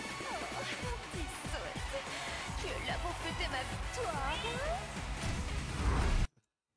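Cat meows ring out amid the dense music and effects of a Tekken 8 game trailer featuring the character Lili, short rising and falling mewing calls layered over a loud, busy mix that cuts off abruptly near the end.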